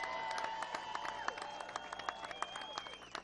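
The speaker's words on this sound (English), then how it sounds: "Please give everyone who voted today for the Guadagno team a round of applause." A crowd applauds and cheers at a political victory rally for a gubernatorial primary nominee, clapping scattered but continuous across a few seconds, with a steady tonal ringing from the hall's sound system running underneath.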